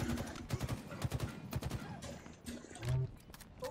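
Rapid bursts of gunfire in Halo Infinite ranked multiplayer, fairly quiet and choppy, a string of sharp shots under a player's voice.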